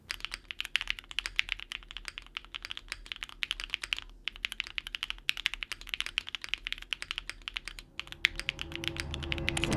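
Stock Luminkey80 tenkeyless F13 keyboard typed on at a fast, continuous clatter of close key strikes, with two brief pauses and a rising rattle near the end.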